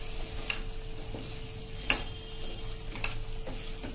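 Ridge gourd cooking in oil in a pan, with a quiet, steady sizzle and a few faint clinks of a stirring utensil, heard alone.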